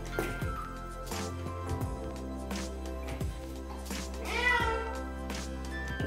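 A cat being bathed gives several drawn-out, complaining meows close by, with a longer rising cry near the end over faint splashing.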